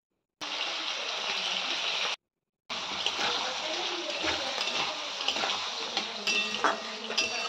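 Diced pumpkin with turmeric and salt is stirred in a pan of fish oil for pumpkin ghonto. A spatula scrapes and clinks against the metal over a soft sizzle, and the sound pauses briefly. A voice talks at times.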